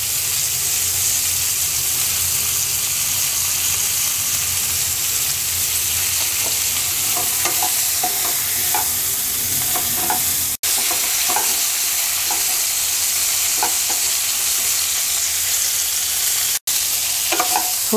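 Cauliflower florets fry in a pan with a little oil, turmeric and salt, giving a steady, close sizzle and hiss with occasional stirring clinks, no voices.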